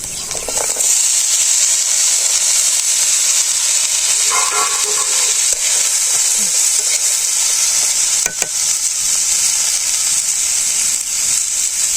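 Potato pieces fry in hot oil with sautéed onion and chili, a loud, close, unbroken hissing sizzle lasting throughout, with a few faint scrapes and taps of stirring mixed in.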